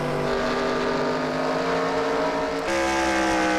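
Stock race cars lapping at Charlotte in a sim racing series, a steady close engine drone with a rising pitch shift as a car passes, loud and continuous with no talk.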